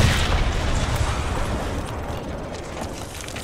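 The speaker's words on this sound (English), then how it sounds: "I'm exploding the bomb." A bomb going off in a Call of Duty campaign, a loud close rumbling blast that rolls on as a sustained roar of debris and low boom, fading slightly over a few seconds.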